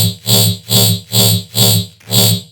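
Downsampled metallic riddim bass with distortion at 34%, five loud, evenly spaced gritty pulses with a buzzing, harsh bright edge, alone with no talk.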